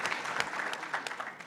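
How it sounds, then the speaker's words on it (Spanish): An audience at a political forum gives a welcoming round of applause, brief but dense and steady clapping from a crowd in a hall, heard moderately close. "les pido que le demos un aplauso y recibimiento"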